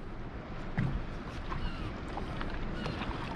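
A boat motoring slowly forward on a short throttle blip while anchoring in clear water, giving a steady low engine and water rumble with wind noise, fairly quiet and continuous, no talk.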